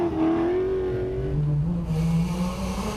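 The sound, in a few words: Toyota Hilux rally vehicle engine driving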